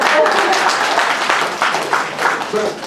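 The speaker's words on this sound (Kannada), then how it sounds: "ಹೊಡಿಬೋದು ಚಪ್ಪಾಳೆ ಅಲ್ಲ" An audience at a Karnataka amateur counsellors' gathering, where a humorous speaker holds the floor, breaks into a rustling wash of clapping that runs steadily for a few seconds, mixed with a voice talking over it.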